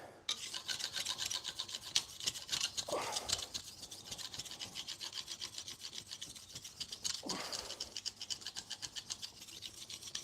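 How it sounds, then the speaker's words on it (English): Steady rhythmic rasping strokes of a blade being sharpened on a fine DMT diamond sharpener in a woodworking shop, repeated back and forth throughout at close range, with no talking. "It's a DMT diamond sharpener, fine."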